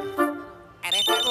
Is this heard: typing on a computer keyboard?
no